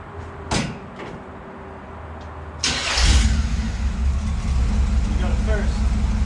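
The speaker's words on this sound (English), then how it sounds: "I'm gonna start it up again and put it in gear and see if they turn." A Chevy Nova with a Turbo Hydramatic transmission, rear wheels jacked up, has a door thump and then its engine starts and idles steadily close by, with people talking.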